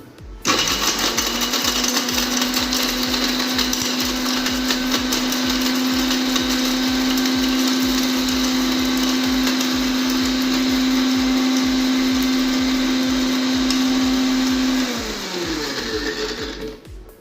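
A mixer grinder runs continuously at high speed grinding coconut, a loud steady whine and whir with hum that winds down near the end.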